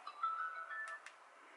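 A faint, distant phone ringtone chirping briefly in a quiet room, a short electronic tone followed by a couple of soft ticks, with no talking.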